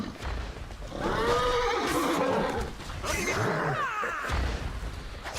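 Horse in World of Warcraft gameplay gives two loud, drawn-out whinnies one after the other, with game-world thumps and swooshes around them.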